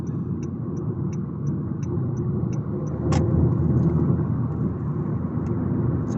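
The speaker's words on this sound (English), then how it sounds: "So you can see the lorries are all thundering past because these people are going so slowly." Heavy lorries thunder past on a road near a roundabout and slip road, a steady loud rumble of passing traffic heard from inside a slow-moving car, swelling midway as a vehicle goes by.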